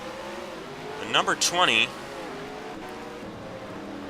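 Race cars on an NRLOA oval track, one loud pass sweeping by with a rising then falling engine pitch around the middle, under a steady commentator voice and crowd-like background roar.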